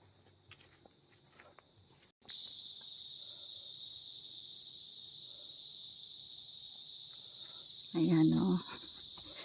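Crickets on a quiet mountain farmland keep up a steady, high continuous trill at moderate volume, with a few faint thuds before it starts and a short louder rustle near the end.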